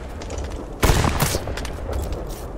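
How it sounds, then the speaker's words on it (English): A quick burst of several overlapping gunshots rings out at a polar bear in the survival game Dread Hunger, loud against a continuous noisy game background with no voices. "Alright, shoot the polar bear, let's go."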